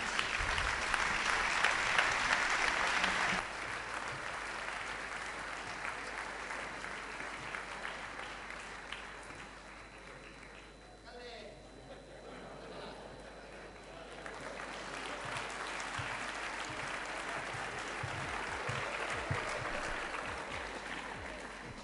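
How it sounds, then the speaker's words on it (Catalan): A large audience claps in a hall during a festival proclamation, a loud, sustained wash of applause that dips briefly midway and then swells again, with no talk over it. "Un fort aplaudiment."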